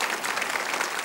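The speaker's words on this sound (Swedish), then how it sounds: "ska vi ge Nine en applåd där tycker jag" Dense, steady applause from a Swedish television studio audience fills the whole brief moment, loud and continuous.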